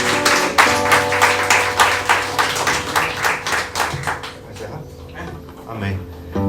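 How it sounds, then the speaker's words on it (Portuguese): A Portuguese-speaking church congregation claps for the Lord during a Sunday service, a dense, loud burst of applause over sustained instrumental music that thins out and fades after a few seconds. "Você pode aplaudir ao Senhor com o seu melhor?"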